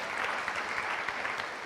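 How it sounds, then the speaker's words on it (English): An audience in a conference hall on digital payments gives steady, dense applause to a panel, a brief, even burst of many hands clapping. "big round of applause for the distinguished panel"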